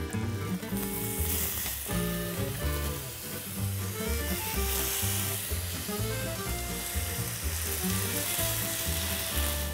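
Endives frying in a pan with brown sugar, salt and pepper, a dense continuous sizzle with occasional stirring scrapes, close and steady throughout.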